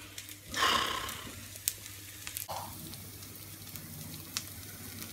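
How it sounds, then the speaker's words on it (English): Diet Coke fizzing, a soft hiss that swells briefly near the start, then settles into faint, steady crackling effervescence in a quiet room. "That is the unmistakable sound of Diet Coke."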